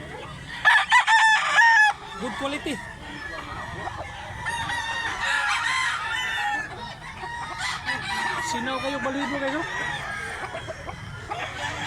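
A nine-month-old Hatch bloodline gamecock crows nearby in Mantalongon, Cebu, with a loud burst early on and further crowing and clucking from other fowl throughout, while people talk in the foreground.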